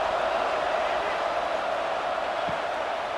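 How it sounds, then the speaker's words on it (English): Football stadium crowd at a high school quarterfinal game, a steady, dense murmur of many voices that holds at an even level throughout. "this crowd is buzzing after that last score"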